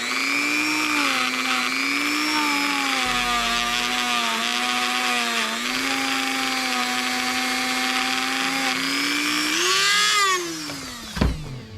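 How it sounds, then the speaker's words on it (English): A Dremel rotary tool grinds rust off a part of a 2001 Harley-Davidson Heritage Springer motorcycle: a loud, close, continuous high-pitched whine that wavers in pitch as pressure changes, dipping and cutting off at the end. "Let me see if I can use the Dremel on this"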